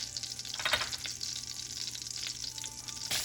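Oil heats in a pan for a wild mushroom lasagna, giving a steady close crackling sizzle with a few sharper pops, with no talk.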